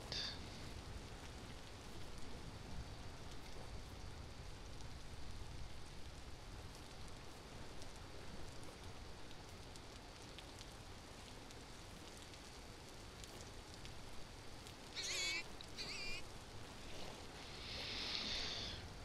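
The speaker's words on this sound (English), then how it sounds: "Why does it always need to rain?" Rain in the video game Vintage Story, a faint, steady hiss of falling rain that runs continuously with small bright spatters near the end, and no talking.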